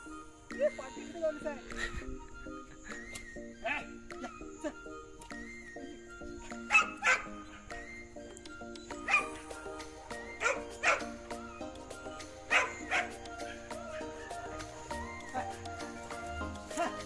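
Several dogs barking and yipping at a jungle-area animal farm, irregular sharp barks at moderate distance over quiet background, with a man calling out between them.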